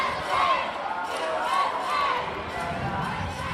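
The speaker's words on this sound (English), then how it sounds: "And now we finally hear the crowd go wild for Northern Ireland cheer." Crowd noise at a cloth mixed dodgeball bronze medal match between Northern Ireland and the United States, a broad swell of cheering and chatter from the stands under a commentator's voice.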